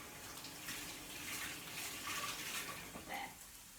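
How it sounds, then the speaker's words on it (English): Hands being washed with hot soapy water at a kitchen sink, a steady hiss of running tap water with soft rubbing and splashing close by, continuous throughout. "I'm just going to wash my hands because I touched my face"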